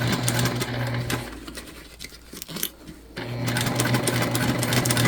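A sewing machine stitches across the open edge of a shoulder bag, running steadily and close, stopping briefly in the middle before starting up again.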